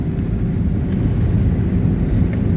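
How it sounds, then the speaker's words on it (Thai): Rain falling on a roof, a dense, steady low rumble of drops hitting the surface, loud and close with no voices. "โอ้ฝนลงเม็ดเปล่าๆยัง"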